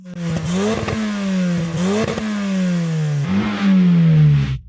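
A car engine, either an AMG G63 or a new Defender OCTA, blipped in three or four sharp revs, each rising and settling back to a rumbling idle, loud and close with no talking.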